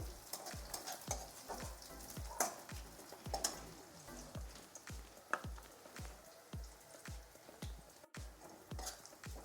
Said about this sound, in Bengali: এই যে রসুনটা একটু লাল করে ভেজে নিয়েছি